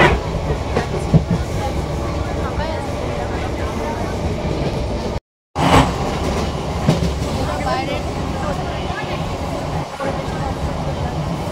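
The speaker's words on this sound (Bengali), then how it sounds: "ট্রেনে উঠে পড়েছি" A passenger train running, heard from inside the carriage on a trip to a shopping mall: a steady rumbling roar with rhythmic clickety-clack of wheels over rail joints and a brief dropout midway.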